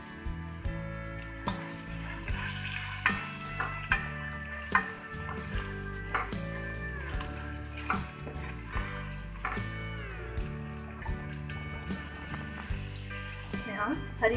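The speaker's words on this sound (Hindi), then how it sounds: "अब इसमें हम अपनी फ्राई हुई भी भिंडी ऐड कर देंगे।" Fried okra stirred in a pan with salt and crushed red chili, a steady sizzle and frying hiss broken by repeated scraping stir strokes at a regular rhythm, soft and close, with no voices.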